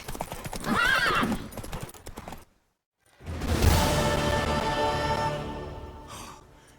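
Hooves clip-clop steadily from a horse in The Witcher 3, with a loud whinny midway after a brief silence and a lingering tail of hoofbeats and ambience.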